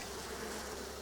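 Honey bees buzz steadily and densely at an autumn hive during a transfer, a continuous close, even drone with no voices.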